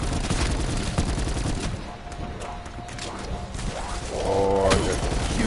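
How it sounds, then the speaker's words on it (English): Continuous rapid gunfire in Black Ops 4 zombies, dense overlapping shots from close by, loud and sustained throughout with game noise underneath. "Just keep shooting forward"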